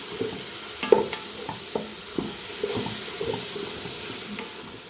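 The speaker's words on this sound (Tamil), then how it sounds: "இப்போ இது எல்லாத்தையும் சேர்த்து நல்லா வதக்கிக்குவோம்" Mushroom biryani ingredients are sautéed in a pan, with a quiet steady sizzle and scattered scrapes and knocks as a spoon stirs them, close by.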